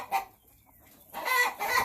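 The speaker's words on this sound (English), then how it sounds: "I've got about 10 roosters." Chickens clucking nearby, with a short call early on and then a longer, louder drawn-out rooster crow.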